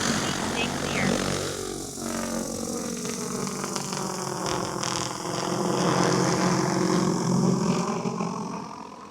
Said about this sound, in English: The drone is about to take off. Please stay clear.